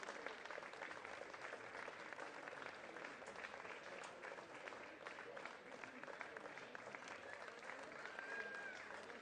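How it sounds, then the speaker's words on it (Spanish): Audience applause at a cycling race award ceremony in Estella-Lizarra, steady dense clapping from a crowd sustained evenly throughout without a break. "Fuerte el aplauso para Markel."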